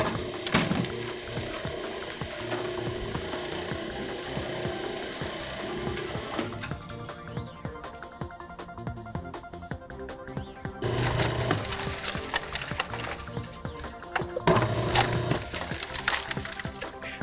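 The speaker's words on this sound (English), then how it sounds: "The SBO5 runs very quietly and efficiently on the 110 motor." An SB Machinerie SBO5 greenhouse bale breaker and pot filler on a 110 motor runs with a continuous mechanical whir and rough crunching of shredded material, steady throughout with louder bursts of churning.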